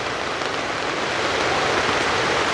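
Steady rain falls in an even, continuous hiss of moderate loudness, with no breaks or distinct drops standing out.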